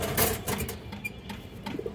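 Black-necked pigeons coo in soft, low, throaty bursts close by, along with faint rustling and a few brief higher chirps, and no voices.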